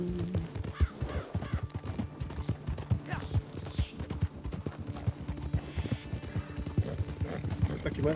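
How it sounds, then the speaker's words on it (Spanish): Rapid horse hooves clip-clop steadily in the online mode of the western video game Red Dead Redemption 2, with a brief whinny and some distant gunfire in the mix, while people talk over the game sounds. "Caballo solo ahí."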